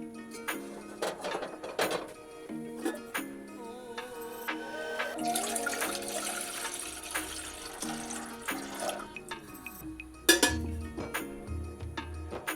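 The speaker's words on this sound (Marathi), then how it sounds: "मोदक उकडून घेण्यासाठी गॅसवर एका पातेल्यात पाणी गरम करायला ठेवणार आहे." Water runs and splashes into a pot set on a gas stove to heat for steaming wheat-flour modak, with a few clanks and clatters of the vessel along the way.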